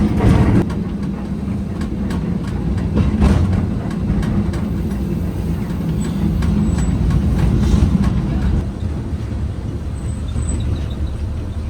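A constant low rumble and rattle from inside a moving Japanese-built train carriage in Dalian, China, with faint clicks and hiss over the steady drone.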